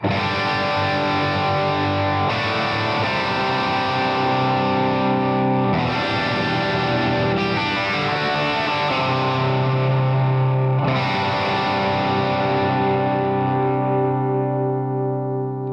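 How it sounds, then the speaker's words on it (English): An overdriven electric guitar, a Stratocaster, rings out heavy distorted chords, each struck and left to sustain and decay, with a thick, gritty tone and no talking. "So here's some overdrive."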